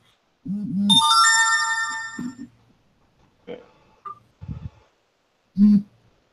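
A phone notification ringtone chimes once as a bright, layered melodic tone lasting about a second and a half, with a voice talking just before and after it, followed by shorter rustles and brief taps.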